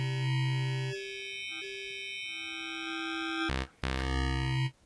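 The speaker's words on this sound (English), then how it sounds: "You just get these like really crazy spectral digital kind of sounds" Digital synth tones from a Vital wavetable with randomized harmonics swept by a slow LFO, sustained bright harmonic stacks shifting in steps, then a brief dropout and a louder, denser burst near the end.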